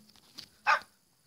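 A single short dog bark rings out at a moderate distance, preceded by faint quieter yelps.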